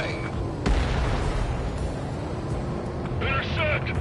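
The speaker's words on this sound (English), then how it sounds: "Mage 2, missile away." A missile fires during an air combat video game, a muffled boom in the midst of dense engine and battle rumble, with radio voices talking over it.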